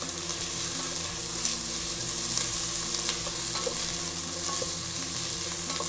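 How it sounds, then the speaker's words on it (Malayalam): Sliced large onions with salt fry in hot coconut oil, giving a continuous close sizzle with scraping and stirring noises from a spatula. The frying stays steady and loud throughout, with no voices. "അപ്പോൾ ഈ ഒരു വെളിച്ചെണ്ണ ചൂടായി വരുന്ന സമയത്ത് നമ്മൾ അരിഞ്ഞു വെച്ചിരിക്കുന്ന വലിയ സവാള ചേർത്ത് കൊടുക്കാം എന്നിട്ട് ഇതിലേക്ക് കുറച്ച് ഉപ്പ് ഇട്ടിട്ട് നന്നായിട്ട് വഴറ്റിയെടുക്കാം"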